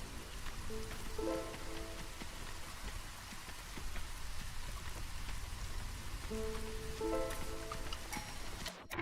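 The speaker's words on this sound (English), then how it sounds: "This is the third weather event that you can get in this game, is the drizzle." Steady drizzle falling in the city-building game Against the Storm, a continuous soft patter of rain on surfaces with occasional faint melodic tones from the game layered beneath.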